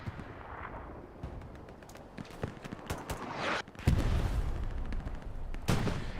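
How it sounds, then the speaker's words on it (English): Artillery fire in the World War II game Hell Let Loose, scattered sharp gunshots building to heavy booming impacts and a loud sustained roar of shelling close by. "But the artillery takes out a big chunk."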